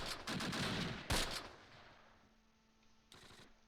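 Machine gun bursts in the Close Combat wargame, a Fallschirmjäger MG crew at Oss in 1944: a dense rattling volley up front, one sharp loud crack, then quieter scattered shots fading out with another short burst near the end.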